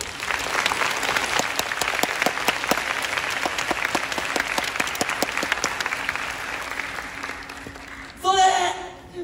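An audience at Universal Studios Japan's Universal Monster Live Rock and Roll Show practices clapping, a sustained, even burst of many hands that fades before a loud voice calls out at the end.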